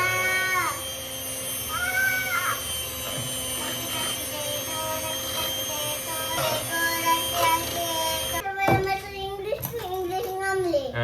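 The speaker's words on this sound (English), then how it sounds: "it's the cat" A cat meows repeatedly in a home, with drawn-out tonal cries spread through the clip and a burst of louder, more urgent calls near the end, amid background noise.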